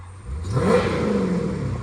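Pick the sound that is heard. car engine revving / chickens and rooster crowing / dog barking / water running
car engine revving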